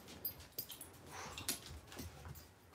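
A puppy whimpers and yips faintly in a home setting, giving soft, scattered little cries over low background noise.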